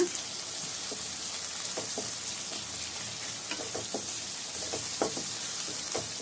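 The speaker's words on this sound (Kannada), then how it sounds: "ಗೋಲ್ಡನ್ ಬ್ರೌನ್ ಆಗೋ ತನಕ ಈರುಳ್ಳಿನ ಫ್ರೈ ಮಾಡ್ಕೊಳ್ಳೋಣ" Onions fry in a pan with green chillies for a bitter gourd palya, giving a steady, close sizzle. Light scraping clicks of stirring come through at intervals, and no one speaks.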